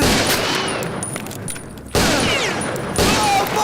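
Gunfire in a Kannada action movie scene, bursts of rapid shots breaking out loudly at intervals with a brief lull between, over a busy film soundtrack.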